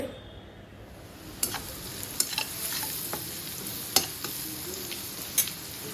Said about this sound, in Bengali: হলুদ মরিচ তারপরে পেঁয়াজ রসুন কাঁচামরিচ দিয়া ভালো করে বুনছি